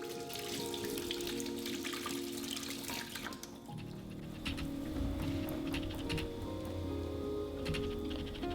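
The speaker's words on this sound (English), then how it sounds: "So I like to wash mine with some dish soap and dry it off" A lemon is washed under a running kitchen tap, water splashing continuously over the fruit and into the sink with a steady hiss and shifting spatter, no voices present.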